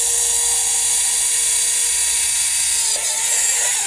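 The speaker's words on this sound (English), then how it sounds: "I've just drilled a hole, a little pilot hole here, right in the center." A small Tamiya drill boring a pilot hole into a scale model gives a steady, high-pitched whine that runs loud and unbroken the whole time, with a slight change in pitch partway through.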